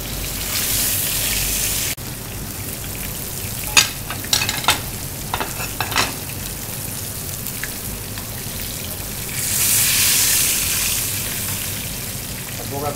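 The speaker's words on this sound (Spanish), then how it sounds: "Hace falta que esté muy frito para que no esté muy seco." Verderón meat fries in a pan in a restaurant kitchen, a steady close sizzle with a few louder crackles and stirring scrapes partway through, swelling again near the end.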